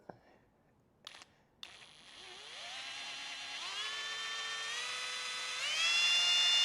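After a few sharp clicks, a power drill whines into motion, its pitch rising in steps as it bores steadily into a metal engine block.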